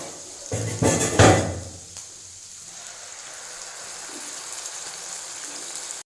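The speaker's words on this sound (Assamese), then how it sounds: "মই গ্ৰাইণ্ড কৰি থোৱা মছলাখিনি দি দিম।" Ground spice paste drops into hot oil for a chicken curry, a loud wet splatter and burst of sizzling at first that settles into a steady, quieter frying hiss nearby.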